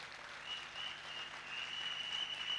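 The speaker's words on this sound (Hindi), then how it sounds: "आप चाहें तो फॉरएवर लिविंग प्रोडक्ट पूरे भारत के स्टाफ के लिए जोरदार तालियां बजा सकते हैं" Applause from an audience at a Forever Living Products Success Day rally in Hyderabad, a steady dense wash of clapping that holds at moderate level throughout with no talk over it.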